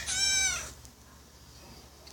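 A single high, harmonic cat meow up close at the start, followed by quiet room noise.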